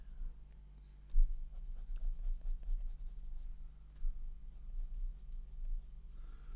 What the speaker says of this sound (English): Pens are good too, but pencils tend to win the day because you can get very long, smooth strokes quite easily.